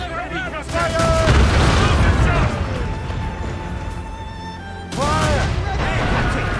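Cannons roar in a video game naval battle as deep booming blasts and rumbling gunfire fill the scene, with one heavy volley at the start and another later, while a voice shouts commands over the barrage.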